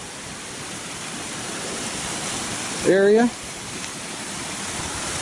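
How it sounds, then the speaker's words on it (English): A waterfall flows on a home's grounds with a steady broadband rush of falling water, while a person speaks briefly over it partway through. "Beautiful waterfall"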